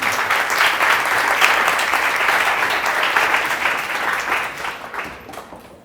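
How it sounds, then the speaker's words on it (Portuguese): A lecture audience gives a professor a loud, sustained round of clapping that holds steady before tapering off. "Vamos aplaudir o professor."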